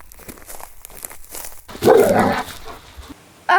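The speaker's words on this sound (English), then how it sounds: "A big loud dog!" A big loud dog barking a few times at close range on a lead along a forest trail, the sharp bursts mixed with rustling and a brief loud peak.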